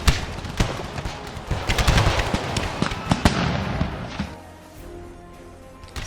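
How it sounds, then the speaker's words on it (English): Troops open fire from behind cover in an American Civil War video game, a rapid crackle of musket shots, loud and close at first, thinning to scattered distant pops. "The troops are opening fire"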